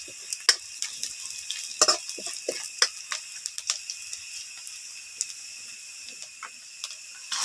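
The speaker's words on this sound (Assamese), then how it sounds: "অকণমান ৰঙা হ'বলৈ দিম পিঁয়াজখিনি" Onions fry in a pan, giving a soft, continuous hiss threaded with scattered sharp crackles and pops at close range, with no voices.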